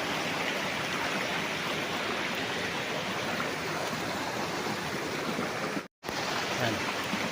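River stream flowing past a farm lot with a spring in Liliw, Laguna: a steady, dense rushing wash heard close and unbroken, cut by a brief moment of silence near the end, with no talking.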